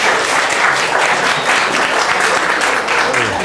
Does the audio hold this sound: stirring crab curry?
no